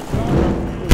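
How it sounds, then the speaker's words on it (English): A grenade explosion in Garry's Mod gives a single loud, close boom with a broad rumbling roar that sustains briefly before cutting off. "that's a grenade."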